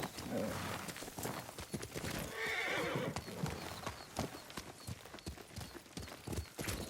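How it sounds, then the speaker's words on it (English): A horse in the Ghost of Tsushima video game whinnies and clip-clops along, hooves thudding in an uneven trotting rhythm at close range with the neigh rising early on, set against faint outdoor ambience. "Horse!"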